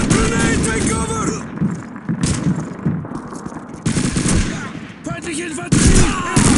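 Bursts of MG-42 machine gun fire crackle in the Call of Duty 2 video game, several rapid volleys with pauses between, loud and close among other battle noise.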